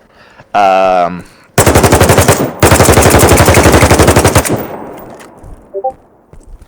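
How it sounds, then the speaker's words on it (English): M4 rifle firing in the Battlebit video game: two rapid automatic bursts of sharp, loud cracks, about three seconds of fire in total with a short break, preceded by a brief mechanical tone and followed by faint clicks. "M4 may sound actually a bit more like the classic M4."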